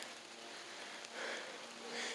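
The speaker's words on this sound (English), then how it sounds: "Oh, the freaking rain." Steady patter of rain falling on a surface, a soft continuous hiss with a slight swell midway and again near the end.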